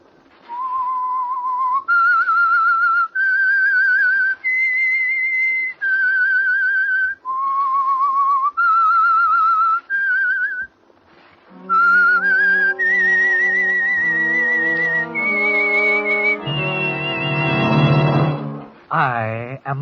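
Whistled theme tune for The Whistler radio show, a clear melodic series of sustained pitched notes stepping up and down, followed by an orchestral swell with the whistled melody joined by accompaniment.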